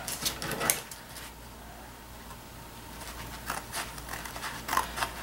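Scissors snipping through a piece of material for a DIY seat organizer, a few short crisp cuts up close at the start and the end, with a quiet stretch in between.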